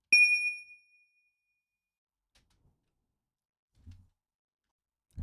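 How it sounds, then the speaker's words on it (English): A synthesized glass-like sound built from a signal tone: one bright ringing ding that decays within a second, followed by silence and two faint low thumps near the end. "I'm going to show you how you can create a glass type of sound, like from this sign sound."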